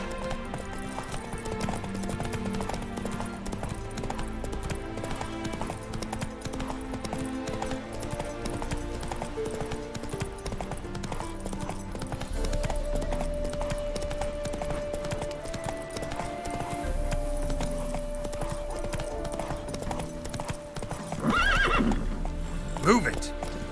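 A horse gallops with clip-clopping hooves and gives loud neighs and whinnies in The Witcher 3 Wild Hunt, a steady rhythmic run that stays close and continuous, with game voices talking over it.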